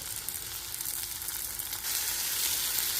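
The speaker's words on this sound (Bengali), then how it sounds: "এর মধ্যে টমেটো আর লঙ্কাটা দিয়ে দিয়েছি" Chopped tomato and green chilli fry in a pan for a spicy snakehead fish curry with mustard and poppy seed, giving a steady close sizzle that swells louder partway through, with no voices.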